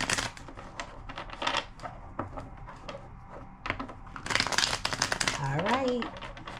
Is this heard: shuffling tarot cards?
yes